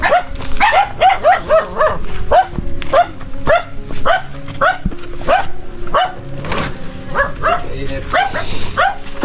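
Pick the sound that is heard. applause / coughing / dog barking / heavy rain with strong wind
dog barking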